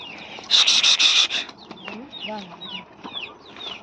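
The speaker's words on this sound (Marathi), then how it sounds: "बघा इकडं आता आपल्या कोंबड्या सोडल्या" Chickens cluck and chirp close by, with a burst of loud, hissing noise early on and short calls scattered throughout.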